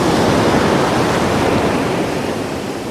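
Sea waves surge in at Philorth Beach in Aberdeenshire, North East Scotland, as a loud, continuous close-up roar of surf that eases only slightly toward the end.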